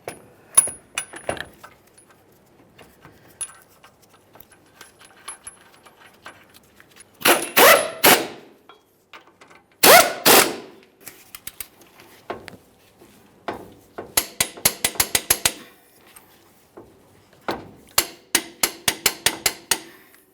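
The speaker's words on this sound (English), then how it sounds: "We'll start these in, snug them up." Steel caliper mounting bolts on a 2015-2020 Ford F-150 front brake being run in and tightened with hand tools: short bursts of ratcheting and metallic clicks separated by pauses, a quick run of rapid clicks near the end, close and moderately loud with no talk.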